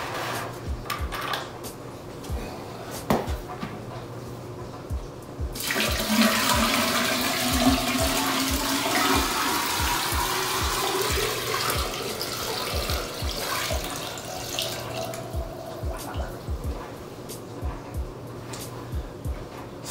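Water pours steadily into a cylindrical test chamber for checking an underwater LED light bar's depth rating in a homemade submarine setup, a broad rushing fill starting abruptly after quiet handling knocks and continuing loud and close.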